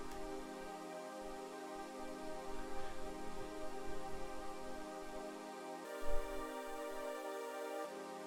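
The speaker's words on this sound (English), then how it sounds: "the first sound we have here is this choir sample" Choir sample sustaining lush minor 9 chords in a jazzy deep house style, smooth and continuous with a slight chord change near the end, playing alone with no talk.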